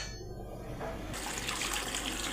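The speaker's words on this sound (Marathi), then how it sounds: "चला आंबे धुवून घेऊया." Mangoes being washed under running tap water in a home kitchen: a steady rushing stream that swells louder partway through, with no talking.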